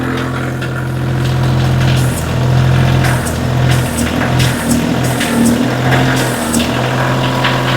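A Kioti tractor engine runs loudly and close by, its low throbbing idle steady with slight surges in revs, and no talk over it.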